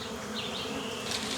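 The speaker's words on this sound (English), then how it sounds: "the smoke should repel the bees and let the men explore the hive" Bees swarm and buzz around a hive inside a tree trunk, a dense, steady drone that holds loud and close throughout with no voices over it.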